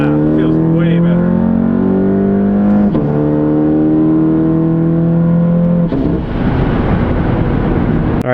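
A VW MK7 GTI fitted with an 034 Motorsport dog bone mount revs hard in first gear with traction control off. The loud engine tone climbs steadily, breaks briefly, climbs again, then gives way to a rough roar of launch noise.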